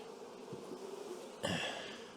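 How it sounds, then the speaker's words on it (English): Honey bees buzz around an open hive during queen rearing, a soft steady hum with a brief louder swell near the end, no voices. "All these bees."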